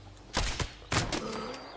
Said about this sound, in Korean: 방금 그 총소리가 어쩌면 그거일 수도 있죠